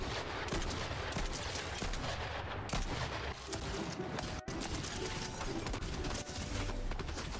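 Sustained automatic gunfire from an auto turret in Fortnite, a dense rapid stream of shots with louder bursts, running continuously and close throughout.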